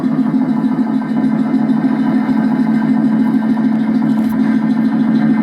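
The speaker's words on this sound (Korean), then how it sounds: "현재 들리는 소리는 컴프레서 소리예요." A construction compressor runs loud and steady, a continuous mechanical drone with a low throbbing rumble and no pauses.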